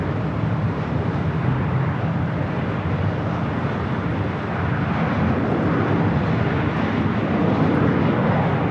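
An Airbus A380 airliner at Los Angeles International Airport gives off a steady, loud, broadband jet engine roar that holds at an even level throughout, with no voices over it.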